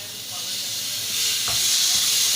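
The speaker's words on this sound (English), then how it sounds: "We'll just saute it for a while" Broccoli and garlic sauté in a pan, a steady close hiss and sizzle that swells slightly, with a faint stir or two underneath.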